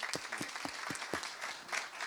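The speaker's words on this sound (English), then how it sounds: "a round of applause for Nicola" An audience at a talk on high-pressure negotiations on the front lines claps to welcome the speaker Nicola, a thin, fairly quiet scattering of distinct hand claps in a loose, uneven rhythm.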